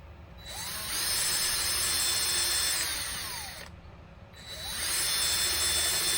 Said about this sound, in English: And now we're going to bore those holes.